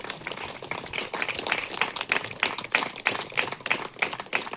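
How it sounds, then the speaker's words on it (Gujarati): A group claps hands together at a joyful welcoming occasion, a dense, steady patter of many palms near and fairly loud, pulsing slightly in rhythm for several seconds without any voices. "હસતા હસતા આપણે તાળીઓ પાડીએ."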